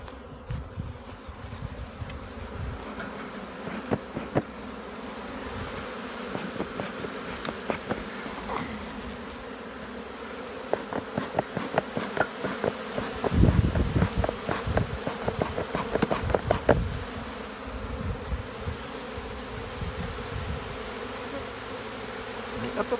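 A honeybee swarm being collected and smoked, a steady buzzing drone of many bees with louder passes of individual bees near the microphone and occasional handling knocks.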